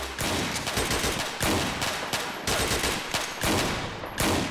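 Rapid bursts of automatic gunfire crackle through a GTA IV shootout, dense volleys broken by short gaps, loud and close throughout with no talk.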